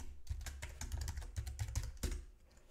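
A password is typed on a computer keyboard: a quick close run of about a dozen light key clicks in uneven rhythm, with no talk over it.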